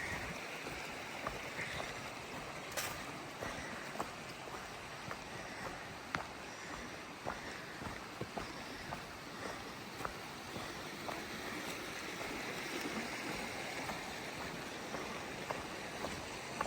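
A creek flows beside a hiking trail, giving a steady, even rush of water that fills the scene throughout with a few faint scattered ticks and no voices.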